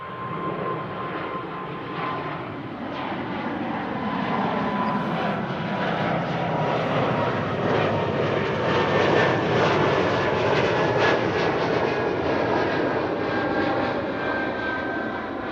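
ITA Airways jet taking off from Schiphol runway 24 (Kaagbaan), a loud roar that builds over the first seconds, holds strong with a crackling rumble, and eases slightly at the end.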